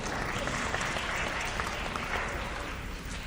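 Steady applause from a debate audience fills the whole stretch, dense and even clapping that holds at a constant level with a faint crowd murmur underneath.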